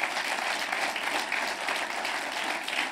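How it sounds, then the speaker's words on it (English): Steady audience applause at a talk with former South African finance minister Trevor Manuel, a dense continuous wash of many hands clapping, fairly loud and even for its whole length with no voices on top. "Why don't you give another round of applause?"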